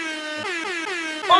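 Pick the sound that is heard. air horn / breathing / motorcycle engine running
air horn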